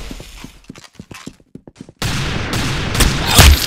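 Rapid gunfire in the Roblox shooter Arsenal, starting with a string of separate sharp shots and then breaking into a dense, loud sustained burst of automatic fire that builds to a peak near the end.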